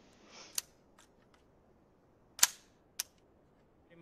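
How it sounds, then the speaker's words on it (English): A stock M4-style AR-15 rifle fired outdoors in winter, with three sharp, isolated shots spaced apart over quiet background. "A little more shooting."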